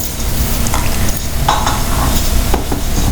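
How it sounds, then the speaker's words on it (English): Soaked basmati rice pours and is stirred into a pot of boiling water, giving a busy hissing, bubbling texture with a few scraping clinks, close and fairly loud. "I'm adding the soaked basmati rice to the boiling water"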